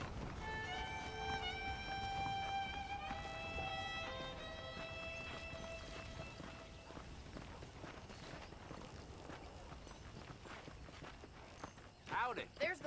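Horse hooves clip-clop at a walking pace in the Western game Red Dead Redemption, a steady, fairly soft rhythmic clopping under music and a voice talking.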